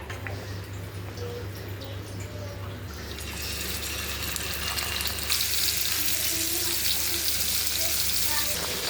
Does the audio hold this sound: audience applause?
no